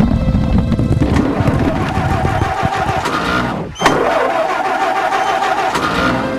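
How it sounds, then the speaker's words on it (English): Cartoon farm tractor engine starting up, a rough mechanical chug and rumble amid busy sound effects, with a quick whooshing sweep midway before the running engine continues. "The tractor!"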